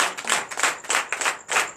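Church congregation applauding during a night of deliverance and prophecy service, quick bursts of clapping that swell and fade in short waves, close and fairly loud, with no speech.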